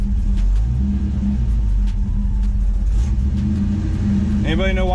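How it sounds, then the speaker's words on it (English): A 1985 Ford Mustang LX 5.0 with throttle body injection idling roughly, a loud close low engine rumble that hunts and wavers, with a voice speaking over it near the end. "My idle's crap right now. This thing doesn't want to stay idle."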